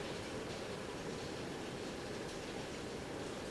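A hotel room toilet flushes on its own, a steady loud rushing of water that runs unbroken throughout.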